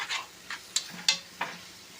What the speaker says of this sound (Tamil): இதையும் நல்லா எண்ணெயில் கொஞ்சம் வதக்கிடுங்க.